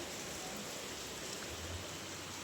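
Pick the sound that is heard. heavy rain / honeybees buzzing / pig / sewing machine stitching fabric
heavy rain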